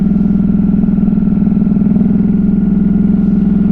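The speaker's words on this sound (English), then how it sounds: "I just felt like I needed to shut myself up and listen to the exhaust" A 2021 Ducati Hypermotard 950 RVE motorcycle's engine and exhaust rumble steadily at close range, a loud, even, low-pitched throb held without revving.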